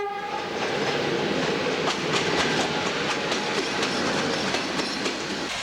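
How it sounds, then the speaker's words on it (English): A train rumbles steadily through Sinaia train station in Romania, with loud continuous rolling noise and rhythmic clickety-clack of wheels close by, while a horn tone sounds early on. "Sinaia train station."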